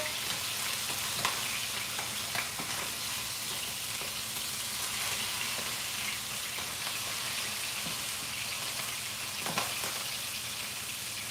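A whole turkey deep frying in hot oil gives a steady, dense sizzle that fills the whole stretch. Faint pops and crackles rise from it now and then, and there is no speech.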